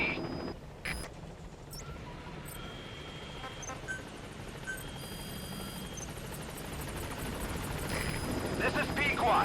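Helicopter rotor drone from the Metal Gear Solid V video game approaches a landing zone. It is a steady, broadband hum that swells slightly toward the end, with radio-style voice chatter and game effects over it.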